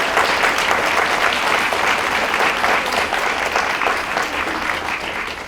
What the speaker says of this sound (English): Let's give everyone a huge round of applause for all of that.